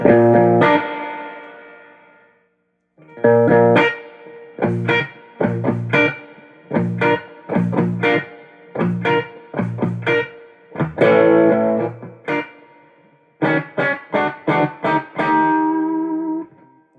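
A Fender '65 Deluxe Reverb Reissue amp plays crunchy, distorted electric guitar: ringing chords struck in bursts, then a run of short, choppy stabs and a final cluster of rapid hits, loud and up close.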